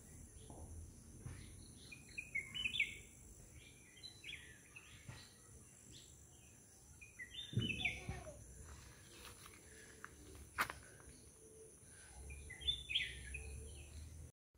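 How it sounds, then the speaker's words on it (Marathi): Sparse, faint bird chirps and calls come and go over a steady insect drone in a quiet Konkan village in the late afternoon, with occasional soft footsteps or rustles nearby. "तुम्ही ऐकू शकता हा पक्ष्यांचा आवाज."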